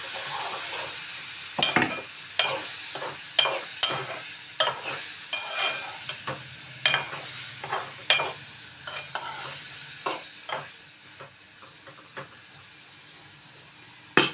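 Three chopped tomatoes frying and being stirred in a pan for a chana dal masala curry: soft steady sizzle broken by repeated scraping strokes of a spoon, close and clear with no talk.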